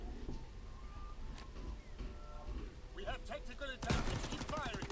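Sniper rifle shots in the video game Call of Duty WWII ring out amid a busy wash of in-game gunfire and background noise, with a loud sharp shot near the end followed by further rapid reports and mechanical clatter.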